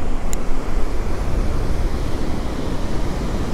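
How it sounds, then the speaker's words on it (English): Big ocean waves crash at a fishing pier with surfers nearby, making a continuous broad roar of surf mixed with gusty wind buffeting the microphone. "Dang, these are some big waves."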